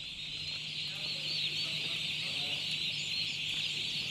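A dense chorus of high-pitched chick peeping fills the background continuously, many birds cheeping at once at a steady level while being sprayed with a knapsack sprayer.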